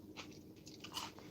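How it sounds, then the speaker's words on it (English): Organic celery stalk bitten and chewed, a few quick crisp crunching snaps over a short moment, fairly quiet and close, with no one speaking. "Trying to finish this celery, man."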